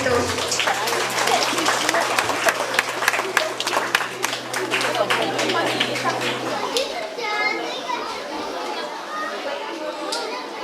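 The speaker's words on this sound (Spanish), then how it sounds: "Aplausos para estos pequeñitos." A crowd claps loudly at a kindergarten closing ceremony in Ameyaltepec, Guerrero, a dense burst of applause that tapers off, with children's voices and chatter mixed in.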